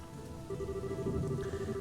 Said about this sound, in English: Yeah, and here comes the rain.